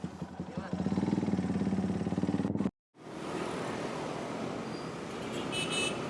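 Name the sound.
motorcycle riding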